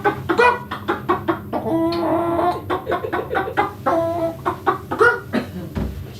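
A chicken hat gives off a rapid run of loud, close clucks and squawks, choppy and continuous, with no voices over it.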